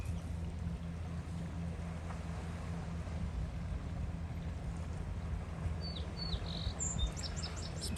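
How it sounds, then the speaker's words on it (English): Personal watercraft drone as a low, steady rumble far off on the water at Woodbine Beach in Toronto, with birds chirping faintly near the end. "sea-doos in the distance"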